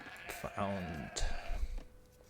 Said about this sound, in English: And the sheep are here.